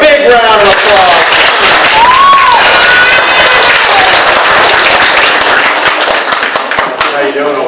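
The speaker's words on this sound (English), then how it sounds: "give her a big round of applause" A crowd of children and adults at a library magic show claps loudly and continuously, with scattered cheers and shouts mixed in, the applause staying full before thinning out near the end.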